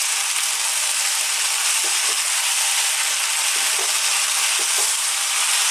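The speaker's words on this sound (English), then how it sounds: "Let's go for 4 minutes now, stirring pretty much all the time." Chickpeas and vegetables sizzling in a hot pan while being stirred constantly, a steady loud hiss with a few faint scraping clicks of the spoon.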